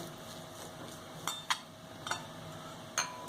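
Metal spoon or fork mashes cheese in a bowl, scraping and tapping a few times, sparse soft clinks with quiet pauses between them, close by.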